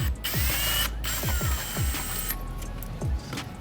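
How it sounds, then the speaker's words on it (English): A hand ratchet works a 13 mm bolt loose on a BMW N55 engine during fuel pump work, with several quick bursts of clicking strokes and short pauses between them, close and clear. "now what we need to do is we need to remove this bolt"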